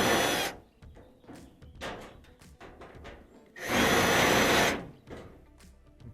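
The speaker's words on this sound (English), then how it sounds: "I'm going to remove that screw there." A cordless power driver pulls screws from the panel of a Whirlpool/Kenmore gas dryer. It makes short whirring bursts and one longer loud spin near the end, with clicks and metallic handling sounds close by in between.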